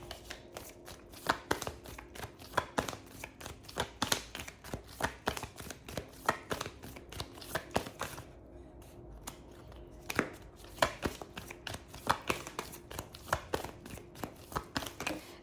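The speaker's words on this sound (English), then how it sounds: "So when I stop shuffling, it's the cards actually change a sound," Crisp, rapid riffling of tarot cards, shuffled in repeated bursts with brief pauses, close and fairly quiet with no talking.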